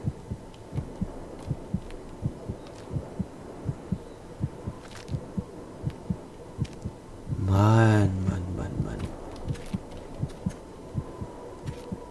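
Dull, regular heartbeat thumps from the video game The Cursed Forest pulse steadily across the whole stretch, briefly joined midway by a louder droning tonal swell before the beat carries on alone.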